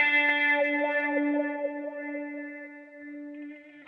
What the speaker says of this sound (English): the wah effect is now engaged